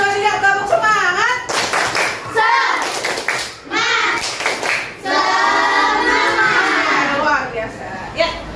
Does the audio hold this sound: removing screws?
no